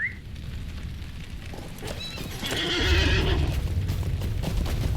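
A horse whinnies in the fantasy online game LOTRO, a loud drawn-out neigh followed by steady hoofbeats as the mount sets off, with no talking.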